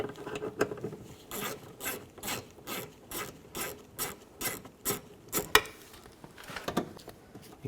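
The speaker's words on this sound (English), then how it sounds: "Take a 10mm socket and loosen up the bolts." A 10mm socket ratchet loosens bolts on a 2004-08 Nissan Maxima front driver's door, giving quiet, close, repeated bursts of rapid clicking in a steady back-and-forth rhythm, with a few sharper metallic ticks and no voices.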